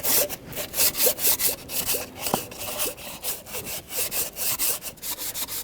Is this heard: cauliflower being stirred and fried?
no